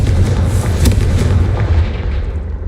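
A loud Confringo blast spell explosion in the video game Hogwarts Legacy, a heavy booming burst with a sharp crack near the start and a thick rumbling tail lasting a few seconds.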